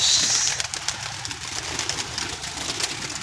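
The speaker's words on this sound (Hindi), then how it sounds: "लो जी कबूतर आए" Pigeons on a rooftop cooing steadily and close by, with a rustle of wings at the start and the soft murmur of several birds throughout.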